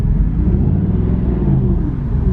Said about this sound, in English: No, it's still misfiring.